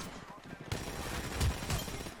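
Gunshots in a shooter video game: a few faint, quick cracks spaced about a second apart, heard at low volume behind the game's background noise.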